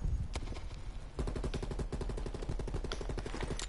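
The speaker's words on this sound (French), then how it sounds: "Sur qui tu tires, toi?" Sustained automatic gunfire in Call of Duty: Cold War, a continuous fast stream of shots close up, with sharper individual cracks standing out and no talking.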